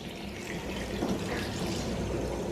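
Water, 2.5 litres of it, is poured into a cooking pot for Sicilian arancini, making a soft, steady splashing trickle that runs quietly and evenly throughout at close range.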